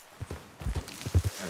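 Horse hoofbeats from a ridden horse in the western video game Red Dead Redemption 2, a few soft, uneven clip-clops starting up and picking up pace, close and fairly quiet over a low ambient bed.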